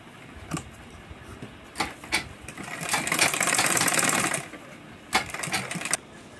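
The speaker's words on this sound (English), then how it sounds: "place it on it like this, and stitch it." A sewing machine stitches fabric pieces for a small crossbody sling bag, with a few short bursts early on and then a steady run of rapid stitching for about a second and a half, close and clear, with no talk.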